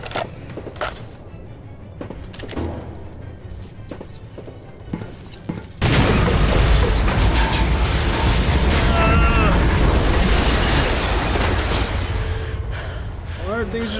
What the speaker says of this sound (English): Why are things just randomly exploding?